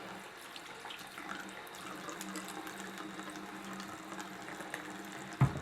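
Tap water runs steadily into a sink as small eyeshadow makeup brushes are wetted under it, a close continuous splashing with a brief knock at the end.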